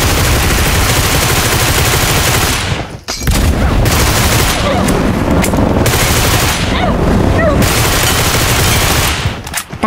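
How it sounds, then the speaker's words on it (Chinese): Rapid sustained automatic gunfire in the mobile shooter PUBG Mobile Metro Royale, loud and continuous bursts during a rooftop fight at a school boss area, with a brief pause before the shooting resumes. "趁现在枪声掩盖脚步"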